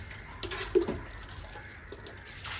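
Tap water running and splashing into a basin while cleaning in a village kitchen, a soft steady trickle with a brief louder splash near the start, close and alone without voices.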